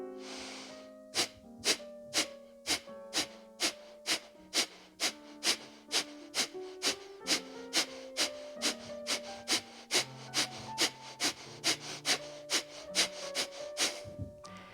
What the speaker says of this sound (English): I think it can take a little bit of time to get used to Kapalabhati breathing.